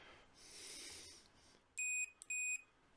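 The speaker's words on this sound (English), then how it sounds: "you can hear it beeping" A multimeter set to continuity gives two clear, high-pitched electronic beeps in quick succession after a quiet stretch, close and loud against faint background noise.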